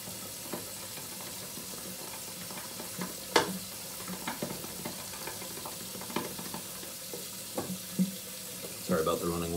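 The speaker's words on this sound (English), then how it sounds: "Sorry about the running water." Tap water runs into a shaving bowl for soap, a steady close splashing stream with small irregular clinks and bumps throughout, ending with a brief stir of movement.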